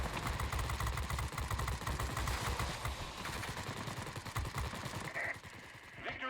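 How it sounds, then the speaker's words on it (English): Aircraft guns fire in War Thunder in rapid, dense bursts over a droning engine in the thick of a battle, loud and near, easing off toward the end. "Especially when you're in the thick of it like this, everybody's shooting at you."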